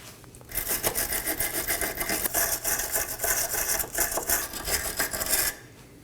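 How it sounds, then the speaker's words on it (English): Wire brush scrubbing the subframe mating surface of a Chevrolet Equinox: a rapid, rasping back-and-forth scratching that runs steadily for about five seconds, close and clear, then stops. "Now I'm going to clean the mating surface on the subframe with a wire brush."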